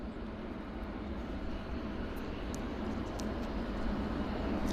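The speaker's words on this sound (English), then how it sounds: "we got another aircraft pulling out of the horseshoe. It's a heavy going to Montreal. It's Air Canada flight 304, 777-300ER." An Air Canada Boeing 777-300ER heavy taxis out at an airport, a steady, distant jet engine drone that grows slightly louder toward the end.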